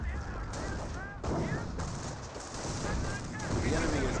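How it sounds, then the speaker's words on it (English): Calliope rocket barrage in the World War II strategy game Company of Heroes, a dense, continuous rumble of rocket launches and blasts rolling on for several seconds with no pauses, loud and layered over game ambience. "at least keep them still for his Calliope's to barrage them"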